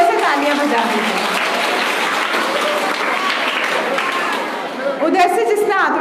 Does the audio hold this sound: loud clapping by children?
yes